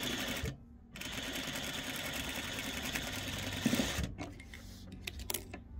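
A sewing machine runs a steady fast stitching chatter along the diagonal of a quilt accent square, pausing briefly near the start and stopping before the end, close and alone.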